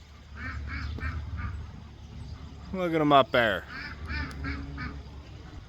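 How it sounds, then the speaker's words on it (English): Geese honk repeatedly in the distance in a field over outdoor background noise, with a louder burst of calls midway as a person speaks briefly nearby. "We got geese in the field."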